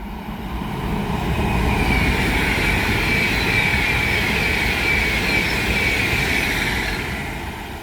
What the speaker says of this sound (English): Our pass through now is going to be an Avanti West Coast Class 390 Pendolino from London Euston to Manchester Piccadilly.